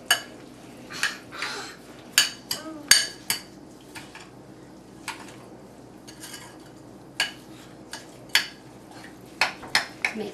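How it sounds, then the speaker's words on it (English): A spoon stirring strawberry jam into a Philly cream cheese sauce in a bowl gives irregular, close metallic clinks and taps against the dish, spaced by quiet pauses. "And then you just stir it all up."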